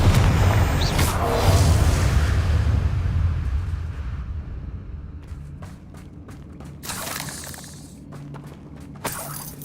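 Confringo fire spell blast in Hogwarts Legacy: a loud booming explosion with shattering debris that rumbles and fades over several seconds, followed by scattered sharp crackles and clicks.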